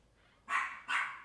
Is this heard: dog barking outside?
yes